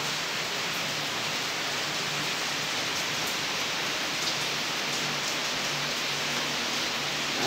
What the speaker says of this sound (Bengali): আজকে ডুয়ার্সে এরকম মতন বৃষ্টি চলছে সকাল থেকে।